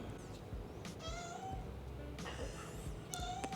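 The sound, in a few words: cat meowing in the kitchen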